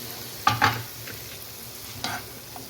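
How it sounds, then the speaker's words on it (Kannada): Potatoes frying in masala for aloo dum biryani, a low steady sizzle with a couple of short scraping stirs of a spoon in the pan, close and moderate, no voices. "ಆಲೂಗಡ್ಡೆ ಹಾಕ್ಕೊಂಡು ಒಂದು 5 ನಿಮಿಷ ಚೆನ್ನಾಗಿ ಫ್ರೈ ಮಾಡಬೇಕು."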